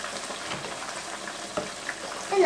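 A thickening sauce is stirred in a pan on the stove, giving a soft, steady scraping and bubbling hiss with a few sharper clinks of the utensil toward the end.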